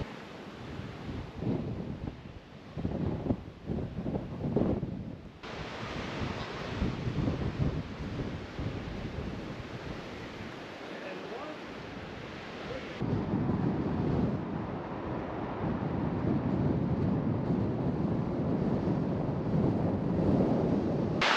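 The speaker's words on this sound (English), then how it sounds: "It has turned into quite the windy day." Strong wind gusting over the microphone on a hike near St. Mary's Lake, a broad roaring rush that swells and buffets continuously, growing louder and steadier in the second half with no talking.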